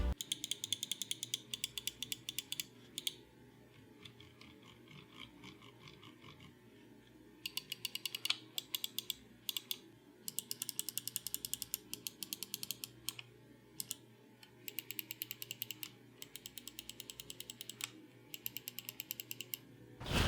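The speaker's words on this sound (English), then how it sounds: "I prefer the slightly sharper sound and response of the Model O switch" Glorious Model O and G-Wolves Hati gaming mouse switches clicking in bursts of rapid, sharp, light ticks, quiet and close, with short pauses between runs.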